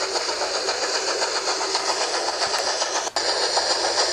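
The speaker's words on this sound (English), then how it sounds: "Rosie was puffing with every ounce of steam she had." A cartoon steam engine runs along the rails with a loud, continuous rushing rumble, no separate puffs standing out and no voices.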